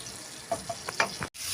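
Garlic, onion and ginger sautéing in margarine in a pan, a soft close sizzle with a few brief stirring clacks over about a second and a half, then a sudden cut.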